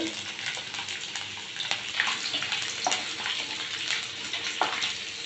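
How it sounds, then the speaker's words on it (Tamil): Fifteen to twenty garlic cloves fry in sesame oil for kara chutney, giving a steady, soft crackling sizzle with faint scattered pops throughout. "அதே எண்ணெயில் பூண்டு ஆட் பண்ணிக்கோங்க ஒரு பதினஞ்சுலேருந்து இருபது பூண்டு"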